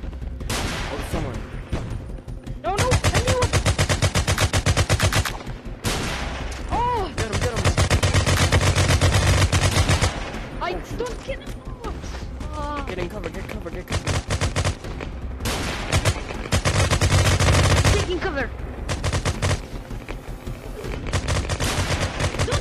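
Bursts of rapid automatic gunfire and single shots in a VR shooter game, loud and dense in long stretches separated by brief lulls, with players talking and shouting between and over the shots.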